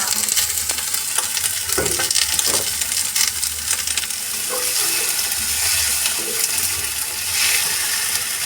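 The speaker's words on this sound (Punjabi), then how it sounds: "ਪਿਆਜ਼ ਨੂੰ ਆਪਾਂ ਇੰਨਾ ਕਿ ਭੁੰਨਾਂਗੇ ਹੁਣ ਇਹਦੇ ਵਿੱਚ ਇਹ ਵਾਲੇ ਆਪਾਂ ਹਰੇ ਮਟਰ ਪਾਵਾਂਗੇ" Chopped onions and green peas fry and are stirred in a pan for an aloo matar dish, a steady loud sizzle with scraping spoon strokes throughout, no voices.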